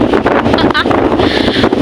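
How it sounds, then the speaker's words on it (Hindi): Strong, gusty wind buffets a rooftop terrace during a storm, roaring loudly into the microphone with constant rushing noise, while a person talks over it. "बहुत तगड़ी हवा चल रही है गाइस, बहुत तगड़ी, इतनी जोर से हवा चल रही है।"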